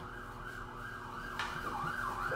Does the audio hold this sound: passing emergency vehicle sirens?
yes